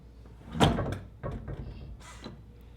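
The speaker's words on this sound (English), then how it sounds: "You'll see that it opened the door." A SECURAM smart safe door unlatches and swings open after code entry, giving a close thunk and rattle followed by a couple of softer clunks and scrapes.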